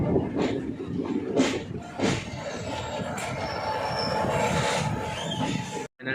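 A moving passenger train on the Bhubaneswar to Kolkata route rumbles steadily with rattling carriages and a few squeals and clanks, heard from inside with faint voices in the background.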